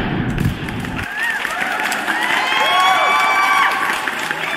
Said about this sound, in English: Give him that round of applause.